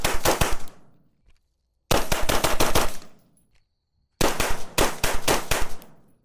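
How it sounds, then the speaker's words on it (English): A rifle fitted with a Steiner T6Xi low-power variable scope fires at a USPSA target in three fast strings of loud, close shots, each string a rapid rattle of reports separated by short silences. "Seeing Evan shoot, I did hold a little bit right"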